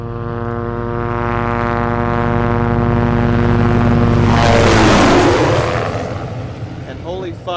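A helicopter in the Project Zomboid video game passes overhead, its rotor drone swelling loud with a steady harmonic buzz and a Doppler-like sweep before fading, with a voice talking at the end.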